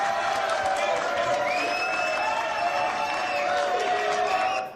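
A crowd cheers and applauds continuously, with overlapping shouts and whoops filling the room before it cuts off abruptly.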